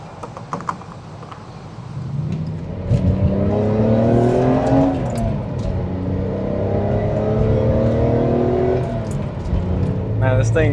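A BMW E46 M3 engine pulls hard while driving, its tone rising and falling through revs in a loud, close, sustained roar heard from inside the car.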